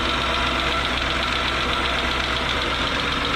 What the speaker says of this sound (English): It appears we have a little bit of a noise coming from the cooling fan